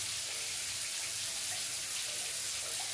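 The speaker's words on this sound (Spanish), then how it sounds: "Pero ahí está pasando el agua." Water from a tap runs steadily over bathroom tiles, a constant bright hiss and splash that stays even and unbroken throughout, with no other sound on top.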